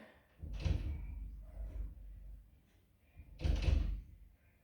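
Two heavy door thuds, a few seconds apart, with creaking movement between them in a quiet room.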